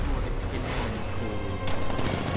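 In Batman Arkham Knight, a 60mm tank cannon fires in rapid bursts amid a noisy battle, with sharp blasts over a rumbling engine bed and game dialogue spoken over it.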